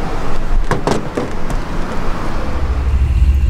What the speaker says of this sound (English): Well, I'm here pulling up at the track